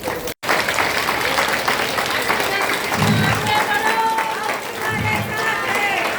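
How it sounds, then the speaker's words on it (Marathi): A crowd claps with both hands at a local political gathering, a steady dense patter that runs through the whole stretch with voices talking over it. "आता तुम्ही बाकी वर हात, दोन्ही हात करून टाळ्या वाजवायच्या"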